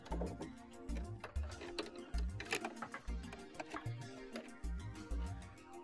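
A sewing machine with a regular presser foot runs a straight seam in short, rhythmic bursts of ticking mechanical clatter, quiet and close, with brief gaps between the runs.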